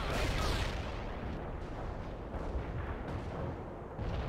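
Heavy artillery barrage in a war video game, a dense continuous roar of booming blasts and rumbling impacts, loud and close throughout with brief dips between salvos.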